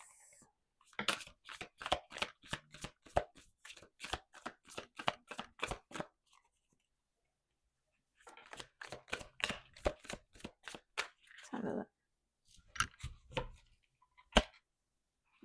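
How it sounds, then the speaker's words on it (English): Tarot cards being shuffled by hand, quick rhythmic bursts of riffling clicks in several runs separated by short pauses, close and crisp. "Did I not shuffle this enough?"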